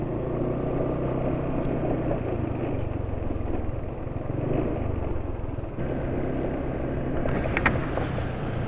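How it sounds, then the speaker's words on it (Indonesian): A motorcycle engine running on Win Power 10W40 oil after 43 km of use idles steadily and close, a low continuous rumble with slight roughness and no voices. "Suara mesin sudah lebih kasar awal-awal ini, tapi secara keseluruhan masih halus ya."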